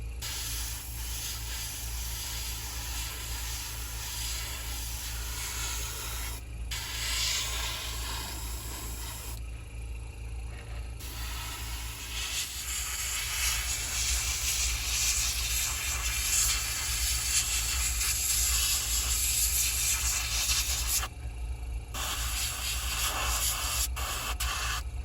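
Spray gun misting paint onto an M422 Mighty Mite, a steady broad hiss running continuously with a few short pauses as the trigger is released, loud and close with no talking.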